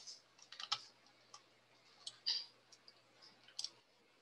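Computer mouse clicking while working in spreadsheet software, several faint, sharp clicks spaced irregularly, alone against quiet room tone.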